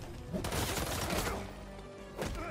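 A burst of rapid gunfire crackles for a moment, then falls quiet, and another shot lands near the end, loud and close over a busy soundscape in Marvel's Spider-Man 2.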